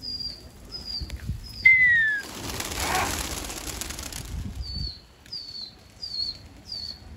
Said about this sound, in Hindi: कबूतर उड़ाओ।